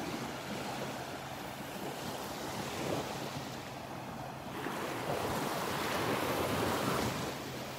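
Surf washes steadily onto a beach on a morning walk at Delnor-Wiggins, a continuous rushing roar of waves mixed with wind buffeting the microphone.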